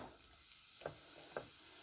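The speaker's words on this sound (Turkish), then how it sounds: "Soğanı koyalım. Az bir yağ koymuştum tavaya" Onions fry in a little oil in a pan, giving a quiet, close sizzle with two brief stirring scrapes partway through; no one speaks.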